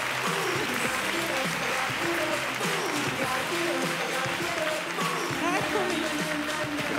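Sustained applause from a conference audience at the Valore D ten-year event, loud and steady throughout, with voices and chatter mixed into the clapping.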